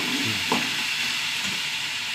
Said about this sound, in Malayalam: ഇടയ്ക്കിടയ്ക്ക് ഇളക്കി കൊടുക്കണം കേട്ടോ.